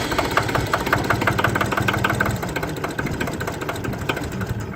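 A CompAir mobile air compressor's diesel engine cranking after a glow plug preheat, a rapid rhythmic chugging of the starter turning it over without firing, loud and close, steady for several seconds.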